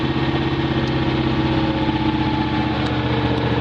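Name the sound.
Miller Legend 302 welder engine running and surging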